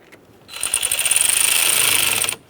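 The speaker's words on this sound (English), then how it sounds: "Continue on to snugging that 10mm mounting nut." A power tool rapidly ratchets the 10mm battery mounting nut on a Ford F-150 pickup, a loud, close buzzing chatter lasting about two seconds before stopping abruptly.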